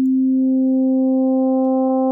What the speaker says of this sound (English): So you get that FM sound.